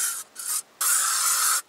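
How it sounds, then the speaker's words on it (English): Short hissing bursts of an aerosol bug spray at a campsite, two quick puffs followed by one longer continuous spray, close and clear with no talking. "bug spray is a must"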